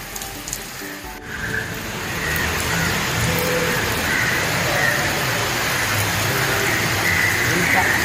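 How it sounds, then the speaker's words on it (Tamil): Rain falls with strong wind in coastal Ramanathapuram district, Tamil Nadu, around Rameswaram and Pamban. A brief soft stretch gives way to a steady, dense hiss of rain and gusts that holds at an even level. "பலத்த காற்றுடன் மழை பெய்தது"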